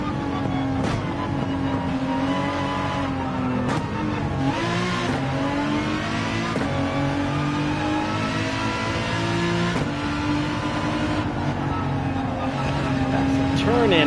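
A racing car engine at full throttle in Gran Turismo 7 drones loudly and continuously, its pitch rising and shifting through gear changes, with a person talking over it.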